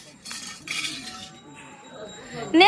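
A spoon scooping food clinks against a bowl in a few bright taps, followed by a louder ringing clink at the end, with people talking around it.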